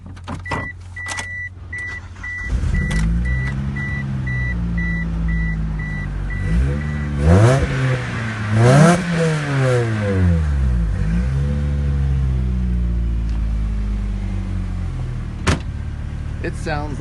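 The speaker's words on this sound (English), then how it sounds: "It sounds like a proper four-banger racer car." A four-cylinder car engine cranks and starts, then revs hard several times, its pitch sweeping up and down in sharp bursts before settling to idle, close by.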